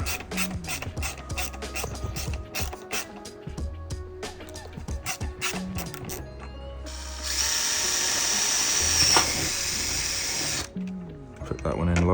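A power drill drives in a diffuser fixing on an Audi A3 8P, first in a string of short ratcheting bursts and clicks, then one sustained loud run of a few seconds before stopping, with a voice talking nearby.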